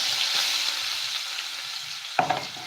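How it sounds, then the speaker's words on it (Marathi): Cumin and mustard seeds sizzle and spit in hot oil with a soft, continuous frying hiss, and a brief louder crackle comes near the end. "इथं जिरं मोहरी टाकली तडतड व्हायची"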